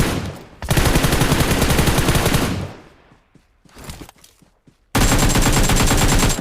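Bursts of automatic gunfire from a PUBG Mobile match, a loud sustained rattle of rapid shots, a quieter stretch of scattered single cracks like distant sniper fire, then another dense volley at the end.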